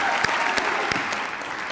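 Audience applause at a school district awards ceremony, a full, even wash of clapping from a crowd, fairly loud and continuous over the short stretch.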